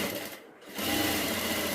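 A sewing machine stitches an invisible zip onto a churidar, running steadily, pausing briefly, then running again close up and fairly loud.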